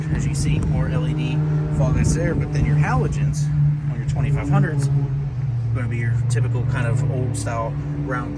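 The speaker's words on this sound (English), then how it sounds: "Sorry for the noise. We're kind of right next to the road real quick." Traffic on a road right beside a roadside walkaround of a 2022 RAM 2500 Laramie Night Edition, a steady rushing engine drone from passing vehicles running under continuous close talking.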